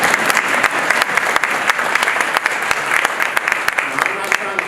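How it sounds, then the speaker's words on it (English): An audience at a scholarship gala bursts into sustained applause, many hands clapping densely and evenly throughout, with crowd voices mixed in. "You can applaud there."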